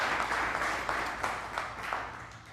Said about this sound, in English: let's give him a round of applause as he approaches as well